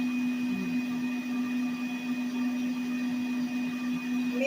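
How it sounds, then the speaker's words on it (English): An electric mixer runs on high through oatmeal cookie dough, giving a steady, even motor whine with a constant hum and no pauses. "And I'm mixing it on high, okay, guys? Because you want it to mix really good."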